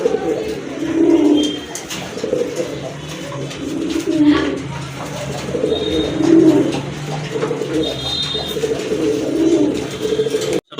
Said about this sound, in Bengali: আরেক জোড়া কবুতর, এটা হচ্ছে চকক ডিজেল কবুতর